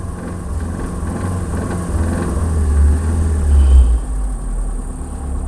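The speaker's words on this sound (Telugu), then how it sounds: "ఇంజిన్ రేస్ చేస్తాను చూడండి" A Hyundai Santro car engine hums at idle, then swells in pitch and loudness as it is revved a couple of times before easing back.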